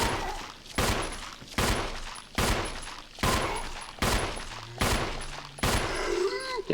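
Gunshots in the Resident Evil 1 Remake video game ring out as seven sharp, loud single blasts, evenly spaced less than a second apart, each with a short decaying tail.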